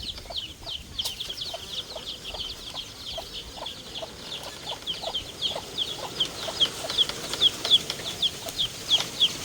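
Chickens in a rural Thai farmyard cluck in a loose, repeated series, joined by a run of thin, high peeps, fairly close but soft, with no talking.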